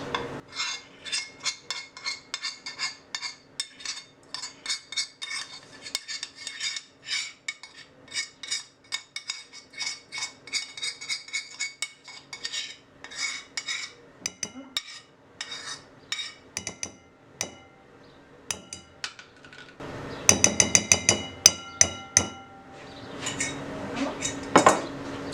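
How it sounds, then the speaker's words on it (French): A spoon scrapes and clinks in a bowl of melted chocolate and butter batter, a long run of quick metallic taps and rubs that grows louder and denser near the end. There is no voice. "on prend un saladier et on va mélanger le tout"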